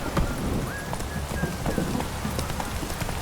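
Hooves of Roach, Geralt's horse in The Witcher 3, clop in a quick, steady galloping rhythm, close and continuous over a rushing ambient background.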